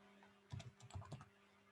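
Typing on a computer keyboard while writing in Notepad: a short quiet burst of several key clacks in quick irregular rhythm, close but faint over a steady electrical hum.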